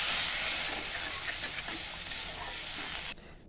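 Curry gravy for green-banana koftas bubbles and hisses in a pan as a broad, steady simmering wash close by, with no talk over it, then the sound drops away sharply near the end.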